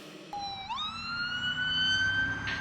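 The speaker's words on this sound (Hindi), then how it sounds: "राजेश ने तुरंत प्राइवेट एम्बुलेंस बुलाई और उसे लेकर हॉस्पिटल चल दिया।" An ambulance siren used as a sound effect in a Hindi audio drama, rising into a steady sustained wail that sounds clear and alone, with no talking over it.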